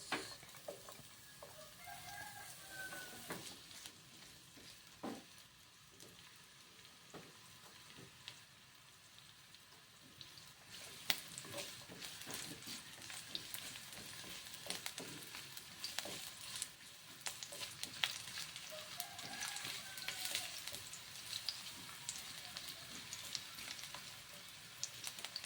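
Onion frying in a pan for ginataang sitaw at kalabasa, a steady low sizzle running throughout, joined by faint crowing and clucking from chickens in the background.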